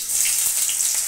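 Garlic frying in oil in a wok (kadai), giving a steady, even sizzle that runs unbroken through the whole short moment, close and fairly loud with no voices over it.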